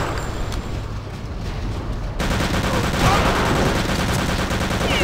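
Tank gun firing in Return to Castle Wolfenstein, a dense, loud stretch of continuous gunfire and booming blasts that swells sharply about two seconds in and keeps rumbling to the end.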